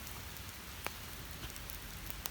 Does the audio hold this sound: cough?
no